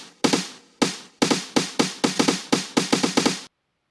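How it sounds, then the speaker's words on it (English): A techno drum roll sample from the Essential Techno pack on Loopcloud: a series of sharp percussive hits, sparse at first, then coming faster and tightening toward the end before stopping abruptly. The hits are loud and dry, with no voices. "I found this one in Essential Techno."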